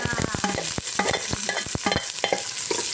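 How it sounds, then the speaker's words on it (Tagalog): Ginger, onion and garlic sautéing in a pan for a pork blood stew with jackfruit, a steady sizzle broken by repeated close, sharp scraping strokes of a spatula stirring, with no talking. "Pagigisa muna ng luya, sibuyas at bawang."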